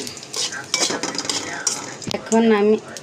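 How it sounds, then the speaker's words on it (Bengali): Bay leaves and cumin hit hot oil in a pan for a tempering, crackling under brisk metal spoon stirring and clinking against the pan, close and fairly loud, ending in a short scraping squeal. "কচুর ঘাটে আমি বাগার দেব, তেজপাতা, জিরা"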